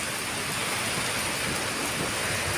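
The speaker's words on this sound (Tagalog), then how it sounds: "Ang lakas ng ulan" Heavy rain pours down in a dense, constant hiss, loud and close, with no voices.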